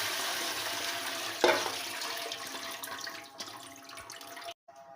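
Washed raw potatoes for French fries are tipped with their rinse water into a strainer, giving a steady, close splashing pour that runs for about four and a half seconds and then cuts off abruptly.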